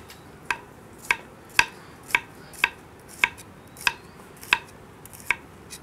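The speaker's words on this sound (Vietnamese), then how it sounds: "Tôi thái hành để phi các bạn ạ." A knife chops shallots for frying on a cutting board, about ten sharp, evenly spaced, close strikes with quiet gaps between them and no talking.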